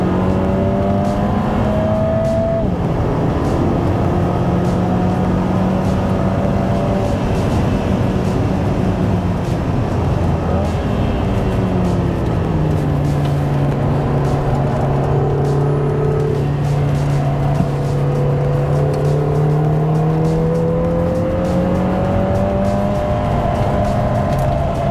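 Lotus Emira with an AMG engine driven hard around the Hethel test track, its engine loud and steady from inside the car, pitch sliding up and down through corners, with tire noise under it and no talking.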